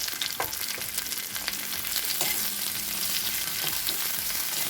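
Green olives frying in a hot pan before jaggery goes in for a sweet olive pickle, a dense continuous hiss with scattered crackles and stirring scrapes, close and fairly loud.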